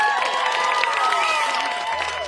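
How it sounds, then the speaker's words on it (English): A concert audience claps and cheers for a couple of seconds, a dense wash of applause with scattered shouts and whoops, fairly close and loud. "everybody give Amelia a round of applause"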